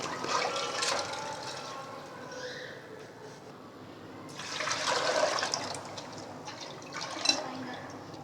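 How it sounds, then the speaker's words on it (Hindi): Water, roughly four to five cups, is poured into a cooking pot of soaked mixed lentils for daal, making a steady rushing splash that eases off midway and then swells louder again. "अब हमने इसके अंदर डाला है तकरीबन 4 से 5 कप पानी"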